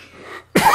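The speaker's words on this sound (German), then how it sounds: "ich muss mal kurz husten" One sharp, close cough bursts out after a faint stretch of quiet background sound, loud and sudden with no speech around it.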